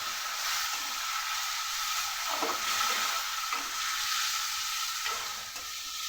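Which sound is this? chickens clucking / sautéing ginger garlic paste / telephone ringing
sautéing ginger garlic paste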